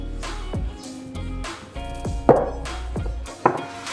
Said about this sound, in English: Then we just cut it into small pieces.